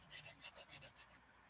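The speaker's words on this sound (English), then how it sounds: "I'm sanding a BGC 7-inch or 6-inch and a 9-inch" Someone hand-sands a painted BGC swimbait lure, about eight quick, even rasping strokes in a steady rhythm, faint and close, then the strokes stop.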